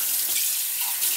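Water running from a new RV sink faucet, a steady bright hiss of spray that stays even and close for a brief moment, with no talking.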